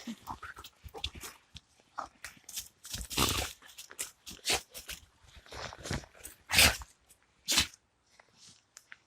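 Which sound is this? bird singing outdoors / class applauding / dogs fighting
dogs fighting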